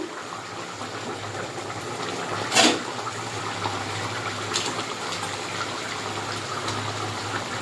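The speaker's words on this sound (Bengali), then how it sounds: "এবার আমি অল্প জল দিয়ে দেব" Water poured into a pan of spiced paneer and potato curry, a brief gushing splash rising out of a steady hiss of cooking noise, followed by faint clinks.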